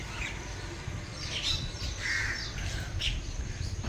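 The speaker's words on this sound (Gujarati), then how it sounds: "કાકડા ને કાબરો આવે છે ધીરે ધીરે સેવ ખાવા" Crows and mynas gather to peck at sev outdoors, several short caws and squawks scattered over a low background hum, moderately distant and fairly faint.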